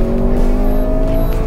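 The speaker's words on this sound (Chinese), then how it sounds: "这就是它的弹射模式啊！" Mercedes-AMG C 43 Estate 4MATIC launching hard under launch control in Sport Plus with stability control off, a loud, steady, close engine roar with strong droning harmonics throughout.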